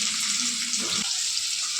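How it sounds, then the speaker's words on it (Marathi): Onion hits hot oil in a kadhai for spicy mutton sukka, giving a steady loud hiss of frying with a brief stirring scrape in the middle. "तेल तापलं आपल्या याच्यात. आता आपण कांदा टाकूया."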